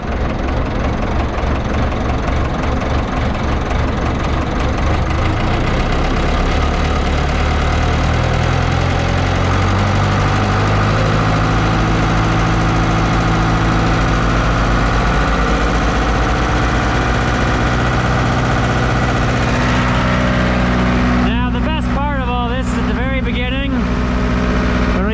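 A farm tractor's engine runs steadily with its PTO engaged and spinning, a loud low rumble and mechanical drone near the listener, with a voice occasionally talking over it while unloading sweet corn silage.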